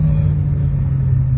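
A car engine driven flat out at full throttle gives a loud, steady, deep roar that holds strong and unbroken throughout, with no talking over it.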